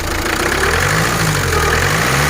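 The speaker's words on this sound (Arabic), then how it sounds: "دوك نوض لك الموتور واشتغل" A car engine, just started, runs at a steady idle, loud and close with a constant mid-low drone.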